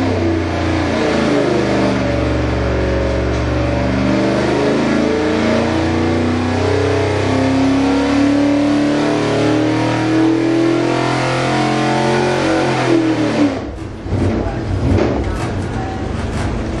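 A Ford V8 351 Cleveland engine revs loud and close, rising and falling through several throttle blips in steady sustained pulls, then breaking into rougher, choppier bursts near the end, with people talking faintly underneath.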